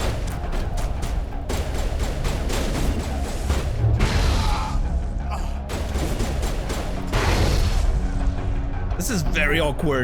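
In a Mass Effect firefight, grenade explosions and gunfire crack and boom in rapid, dense bursts throughout, while a voice talks over the chaos.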